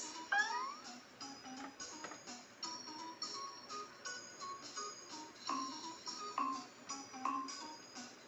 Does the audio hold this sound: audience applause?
no